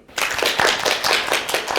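Audience at a forum on North Korean performing arts bursts into applause to welcome a speaker, dense close clapping starting abruptly and sustained, loud, with no talk over it.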